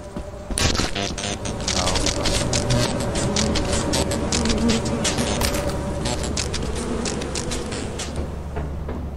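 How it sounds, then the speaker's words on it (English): A swarm of bees in Lethal Company gives off a steady, dense buzzing that lasts the whole stretch, with fluttering, crackling texture layered on top. "That's a bee!"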